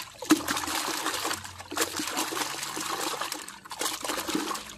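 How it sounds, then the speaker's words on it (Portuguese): A cleaning cloth is swished through a bucket of clean water, giving uneven sloshing, trickling and splashing in bursts at close range. "Mexe com o pano agora pra soltar aquela sujeira na água."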